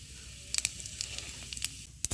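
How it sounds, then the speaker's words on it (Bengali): Whole cumin seeds crackle in hot oil for a tempering, a steady close sizzle broken by several sharp pops and spits. "ফোড়নে দেবো গোটা জিরে"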